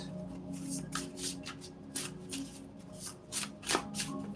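A deck of oracle cards shuffled by hand, a run of close, crisp riffles and flutters in irregular bursts, with faint room tone and no talking.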